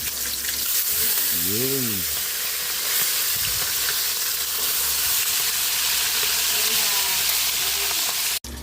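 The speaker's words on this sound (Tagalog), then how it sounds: "Lagyan natin ng bawang pampabango. Balik na rin natin yung ating pritong isda." Fried tilapia and garlic sizzle loudly in a pan, a steady close hiss throughout, with a short voice and a few faint kitchen clatters over it.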